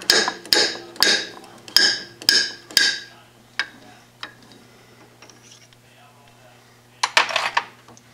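Close, sharp metallic taps struck in a steady series of about six, ringing briefly, followed by a few scattered lighter clinks and another quick burst.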